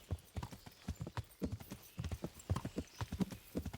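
Horse hooves gallop in Kingdom Come: Deliverance, a steady rapid clip-clop of repeated hoof strikes close up, with no talk over it.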